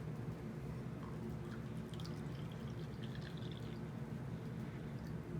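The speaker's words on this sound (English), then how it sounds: "you pour it over the pot to make sure you don't spill." Vinegar is poured into a pot for a science demonstration, a faint, steady stream of liquid with light splashing over a low background hum, with no talk.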